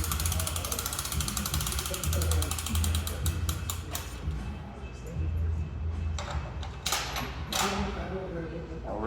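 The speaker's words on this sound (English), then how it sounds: "ratchet it up." A Monolift safety arm on a deadlift rack is ratcheted upward, giving a fast train of metallic clicks in bursts, near and fairly loud against steady background noise, with brief pauses between runs.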